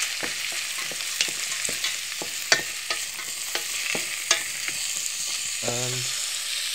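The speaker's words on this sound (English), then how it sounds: "So, give that a stir." Food frying in a pan for a garlic pasta dish, stirred with a series of scraping clicks over a steady soft sizzle, close and moderately quiet with no talking.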